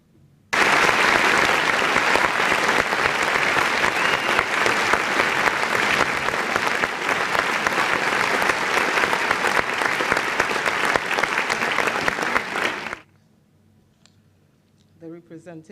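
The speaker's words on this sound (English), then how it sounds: "A round of applause for her, please." Sustained applause from an audience at a stakeholder engagement forum welcoming the chief host, loud and dense for about twelve seconds before cutting off abruptly, followed by near silence and a faint voice.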